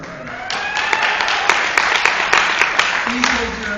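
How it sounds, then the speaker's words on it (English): Audience at a literary awards ceremony breaking into applause, a dense wash of clapping with a few sharper claps standing out, under a voice and some tonal sound. "Please hold your applause till the end of this list."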